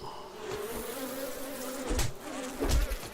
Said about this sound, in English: I think they're bees.